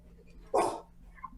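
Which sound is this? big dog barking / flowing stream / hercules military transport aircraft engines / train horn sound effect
big dog barking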